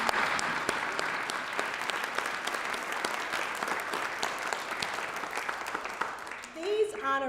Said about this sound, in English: Please join me in applauding for that.